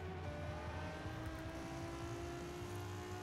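A Forza Horizon 4 car engine, a rose chrome gold Type D, hums steadily at moderate pitch, a smooth continuous drone with a faint whine, quiet and even throughout.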